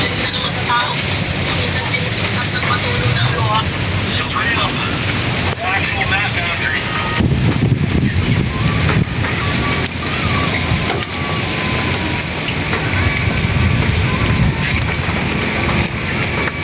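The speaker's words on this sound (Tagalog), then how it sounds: "At, maulan. Maulan." Steady, dense rain pours throughout during stormy typhoon weather, a continuous close wash of drops on surfaces with no letup, and faint background sounds mixed in beneath it.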